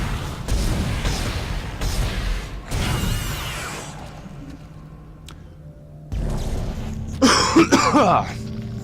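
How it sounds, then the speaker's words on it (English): Several harsh, hacking smoker's coughs come in bursts close to the microphone, with a pause before a final rough, throaty cough near the end. "You'll probably notice I cough a lot when doing recordings"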